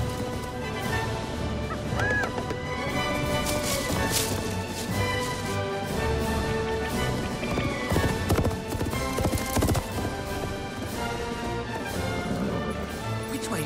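A horse's hooves clip-clop steadily through a busy, layered outdoor scene, with honking geese or fowl mixed into the background.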